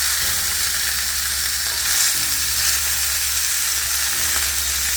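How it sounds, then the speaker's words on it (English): Chicken pieces searing skin-side in a hot pan at home, a loud, continuous crackling sizzle with bursts of spitting fat and no talk, close to the pan throughout. "this is going to sear on the back side for just a few minutes"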